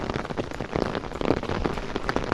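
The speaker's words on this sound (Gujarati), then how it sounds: "વરસાદ પાછો આજે ધીમે ધીમે શરૂ થઈ ગયો છે" Rain begins falling, pattering on surfaces close by in a steady crackle of drops with uneven, flickering loudness.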